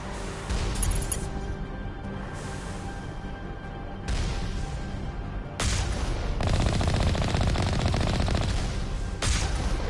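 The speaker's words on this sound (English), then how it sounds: "I'm hearing the shot or explosions." Turret fire in the Mass Effect Remastered video game roars in dense, continuous bursts of gunshots and blasts, loud and close, with brief shifts in intensity and no talk.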